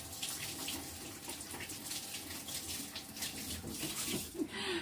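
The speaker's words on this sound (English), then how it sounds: "Let me wash my hands." Water runs steadily from a kitchen tap as hands are washed, a continuous broadband hiss that stays loud and unbroken with no talking over it.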